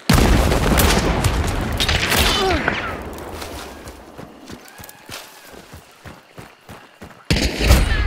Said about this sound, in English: I'm blowing up this barrel